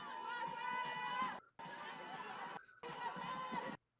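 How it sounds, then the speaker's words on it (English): Cheering from the sidelines at an ultimate frisbee match, a continuous crowd roar with shouts and chatter, cut by two brief silent gaps, with voices mixed in. "And hear the cheering from the sidelines."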